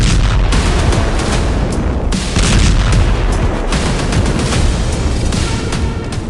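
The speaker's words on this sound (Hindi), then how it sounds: "जिनसे ऐसे धमाके हो रहे हैं" Israeli F-15 bombing strikes on Syrian army positions bring a dense barrage of loud, heavy blasts and rattling bursts that keep going without pause.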